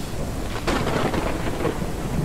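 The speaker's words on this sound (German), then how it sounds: "Was für ein Gewitter." Thunder rumbles through a thunderstorm in the farming video game Ranch Simulator, a broad crack and roll over steady rain, loud and alone with no voices.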